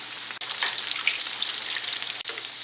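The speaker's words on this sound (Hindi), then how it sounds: "ऑयल को अच्छा गर्म करके हीट लो कर ली है। अब इसमें डाल के फ्राई कर लेते हैं।" Breaded mozzarella sticks fry in hot oil, giving a loud, close, continuous bubbling hiss with crackles, briefly dropping twice as if the pan is disturbed, and no speech.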